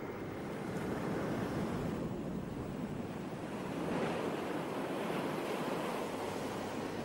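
Sea waves wash steadily onto the beach at Nahariya, Israel, a continuous broad surf roar with gentle swells and some wind noise on the microphone, no voices.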